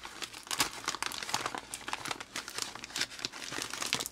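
Close, crinkly rustling and tearing of gift paper heavily stuck with tape, in irregular bursts like wrapping being pulled open, with no one speaking.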